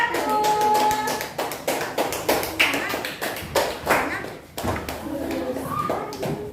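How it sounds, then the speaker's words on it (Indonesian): A classroom of children claps for a student group, a run of sharp, uneven hand claps close by, with young voices chattering between them. "Tepuk tangan untuk kelompok 1."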